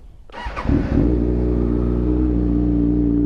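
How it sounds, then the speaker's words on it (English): A 2017 Kawasaki ZX6R with an aftermarket M4 exhaust cranks and fires up with a throaty, loud exhaust note, then settles into a deep, steady rumbling idle nearby. "Shall we give it a start? Hear the M4 exhaust?"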